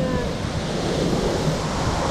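Gentle sea waves lapping against a rocky coastline, a continuous soft surf hiss with light wind buffeting the microphone, no talk heard.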